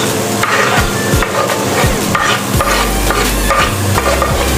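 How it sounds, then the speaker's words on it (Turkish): Vegetables with squash sautéing in a pan for a homemade vegetable soup, with steady loud frying sizzle and repeated spoon scrapes and stirring knocks, no talk. "Evet, şimdi tekrar kavuruyorum"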